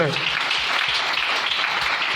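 A church congregation claps in sustained, dense applause at a healing service, loud and close, with a few voices mixed in under the clapping.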